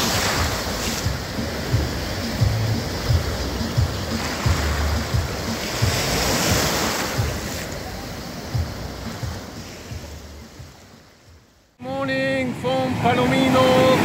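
Ocean waves wash onto the beach at Palomino, Colombia, a continuous loud surf roar with wind buffeting the microphone, cutting out abruptly near the end before a different scene with a voice begins.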